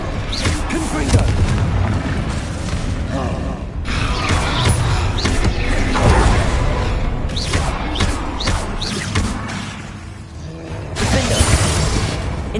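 Confringo spell blasts in the Hogwarts Legacy video game boom and crash repeatedly amid continuous combat noise, loud and close, with spell-casting voices heard throughout.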